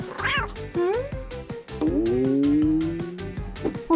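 A cat meows repeatedly, close and fairly loud, with several drawn-out, rising and falling cries in quick succession.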